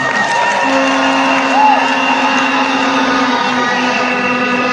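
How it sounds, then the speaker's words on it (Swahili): A large crowd at a party manifesto launch at the Bomas of Kenya cheers and applauds for the party leader, producing a loud, dense, sustained roar with a slight swell partway through. "Wapi makofi ya party leader?"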